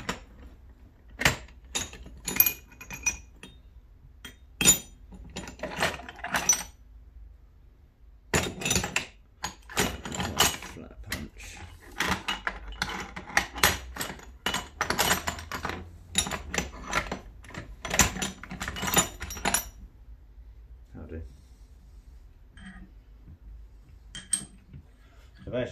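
A hammer taps a flat punch to drive down a part during a Yamaha R6 5EB to R1 4XV fork conversion, giving bursts of sharp, irregular metallic knocks with quiet pauses between.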